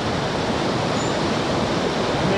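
A river in Costa Rica, flowing low in a dug-out channel, gives a loud, close, constant rushing hiss that holds steady throughout with no voices.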